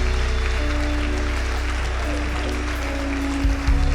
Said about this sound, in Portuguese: vamos aplaudir o Senhor pelas essas vidas